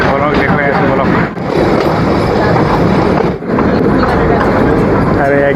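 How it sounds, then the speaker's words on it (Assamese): The Darjeeling toy train runs on its narrow two-foot-gauge track, a loud, continuous rumbling clatter of wheels and carriages heard from on board, with brief dips in the noise. "এই ট্ৰেইনখন 2 ফুট বহল সৰু ট্ৰেক এটাত চলে"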